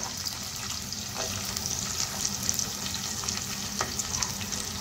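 Finely sliced onion sizzling and frying in a pan while being stirred, a continuous close crackle with occasional scraping of the spoon, no voices.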